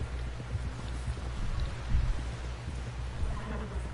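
A horse in the Western video game Red Dead Redemption 2 whinnies amid soft hoof clops and a wind-like outdoor ambience, with no talking.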